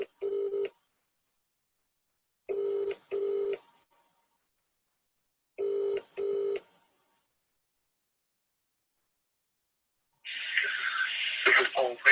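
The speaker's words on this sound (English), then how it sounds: "It's ringing." A telephone call ringing out with three separate double rings spaced a few seconds apart, a clear repeating ringback tone over silence, followed by a voice speaking at the end.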